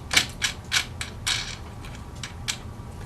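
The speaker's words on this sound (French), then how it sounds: "Je vais donc desserrer le morceau afin de revirer le roux." A wooden roller on a weaving loom is loosened and turned, giving a series of sharp clicking, ratchet-like creaks in an uneven rhythm, close and fairly loud over a low background hum.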